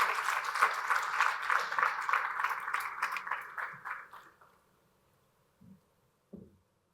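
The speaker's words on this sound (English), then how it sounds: "Round of applause for her." A conference audience at a financial inclusion report launch in Rwanda applauds the panel moderator, a dense burst of clapping that fades out over about four seconds, followed by near silence and a couple of faint thuds.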